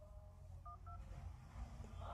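A Samsung Galaxy S6 plays two short, clear keypad dialing tones in quick succession, faint over a low background rumble, followed by quiet room noise.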